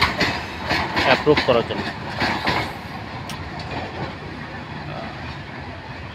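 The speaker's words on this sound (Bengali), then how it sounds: "কুড়িগ্রাম এক্সপ্রেস এই মুহূর্তে সান্তাহার স্টেশন ছেড়ে গেল।" The Kurigram Express passenger train pulls out of Santahar station with rhythmic clickety-clack of wheels over rail joints that fades into a distant rumble, while someone talks over it.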